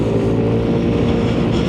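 A scooter fitted with a Dr. Pulley variator accelerates hard in traffic, giving a loud, steady, close engine drone that holds throughout with no talk.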